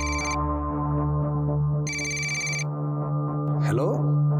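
Phone ringtone in a Crime Patrol crime drama: two bursts of a bright electronic ring, then a short squeal, over a steady low musical drone and background bed.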